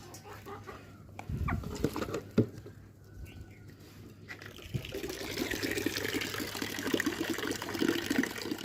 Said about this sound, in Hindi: मुर्गियों को खाना डालती हूँ, ये मुर्गियों का खाना है।